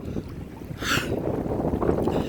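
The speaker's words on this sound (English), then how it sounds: "Oh, man, it's cold, it's windy." Strong wind roars steadily against the microphone, a constant low buffeting rush with a brief higher whoosh partway through.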